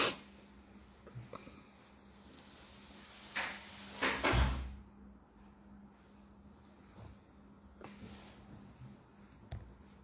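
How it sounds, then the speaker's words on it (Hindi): A door is pulled shut during a satsang gathering, making a brief thump and rattle, with a few softer knocks before and after over a faint steady hum in a quiet room. "दरवाजा बंद कर"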